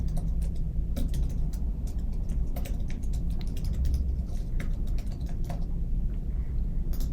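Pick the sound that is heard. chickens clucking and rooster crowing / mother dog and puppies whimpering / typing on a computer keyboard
typing on a computer keyboard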